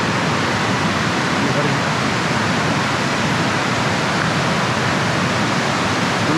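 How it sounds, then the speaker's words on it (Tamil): Heavy water pours down Devkund waterfall in Maharashtra as a dense, steady roar that stays loud and unbroken throughout, with no other sounds rising above it. "ஃபுல்லாகவே ஹெவி வாட்டர் ஃப்ளோ."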